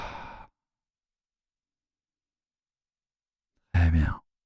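A slow, breathy exhale during guided breathing, first a short soft trail of air at the start, then after a long silence a fuller, close sigh of breath.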